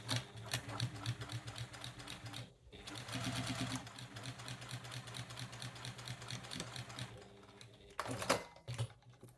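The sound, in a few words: sewing machine back stitching quilt binding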